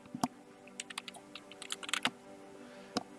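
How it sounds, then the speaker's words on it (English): A landowner's name typed on a computer keyboard, close and quiet: a quick, uneven burst of sharp key clicks, bunched in the middle and ending with a single final tap. "Type in the name of the landowner."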